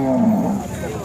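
A Khillar bull lowing at a busy cattle market, one drawn-out moo up close that fades within a second, with crowd noise underneath.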